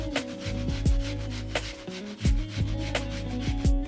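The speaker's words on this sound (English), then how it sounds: "And I grate in an onion as well." An onion is grated for Swedish-style meatballs, with a series of rhythmic rasping strokes about every half second, close up over a soft musical background.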